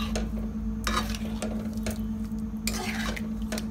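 A spoon stirring carrot halwa (gajrela) in a pan on low heat, with repeated scraping strokes and soft clinks over a low steady hum, close and without talk.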